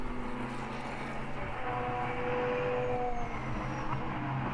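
GT race cars, including a BMW M4, in an endurance race at the Brno circuit. Engines drone steadily and loudly as the cars pass, with a rising and falling pitch and no break over the few seconds.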